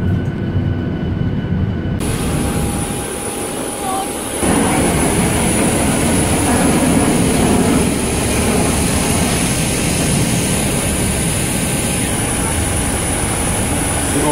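Passenger airplane cabin during flight, filled with a loud, steady engine drone and broadband rush that shifts slightly in tone but runs unbroken throughout.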